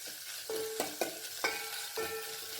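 Ingredients sautéing in a pan for a drumstick-leaf dal kuzhambu, with a spatula scraping and stirring in about four distinct strokes over a low, steady sizzle, close and moderately loud, with no talking.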